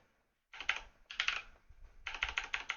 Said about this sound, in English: excuse me for my typing